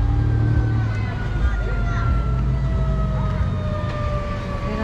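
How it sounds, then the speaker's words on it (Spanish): Ambulance sirens approach a street accident scene in the fall, their steady wailing tones sounding through continuous traffic and crowd babble for the whole stretch, fairly loud and close. "Ahí vienen ya las ambulancias."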